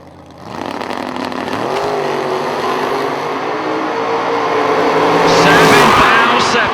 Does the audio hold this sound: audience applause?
no